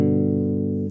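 A triad chord rings out on a bass guitar, each note distinct and sustained, full and warm for about a second before being cut off, played alone without voices.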